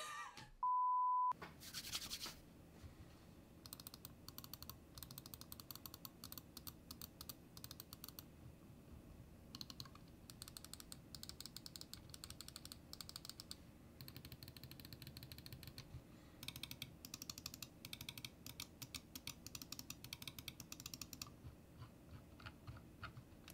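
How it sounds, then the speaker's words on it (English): Razer Viper Ultimate and Glorious Model D wireless gaming mice clicked in a long run of quick, crisp taps, close and fairly quiet, after a short opening beep, with no talking. "The Model D provides a very clean sounding and consistent feeling click, with the Viper having a more clacky sound"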